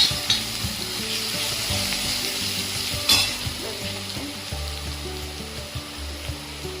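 Ground masala sizzles and fries in a pan on low heat for bread vada while a spoon stirs it, with steady crackling and a few sharp scrapes and knocks against the pan.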